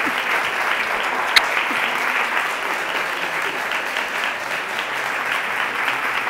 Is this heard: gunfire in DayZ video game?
no